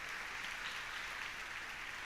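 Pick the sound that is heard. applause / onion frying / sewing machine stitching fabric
applause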